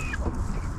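A chicken gives a short, close cluck in a backyard coop setting, a single brief low sound with no speech over it.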